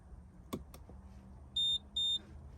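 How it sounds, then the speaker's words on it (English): An RV Leveler Pro leveling device powering back on gives two short, sharp electronic beeps in quick succession, loud and close against a quiet background after a couple of faint clicks. "2 beeps, it's back on"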